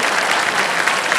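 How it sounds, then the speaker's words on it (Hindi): Studio audience applause on a televised quiz game show, a dense, loud, continuous burst of clapping from a large crowd filling a short moment. "तालियां बजती रहे देव सच में इनके लिए।"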